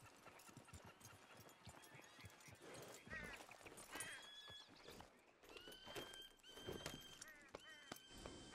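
Horses in Red Dead Redemption 2 give steady clip-clopping hooves on a trail ride, with several loud whinnies and neighs rising over the hoofbeats and some talk in the background.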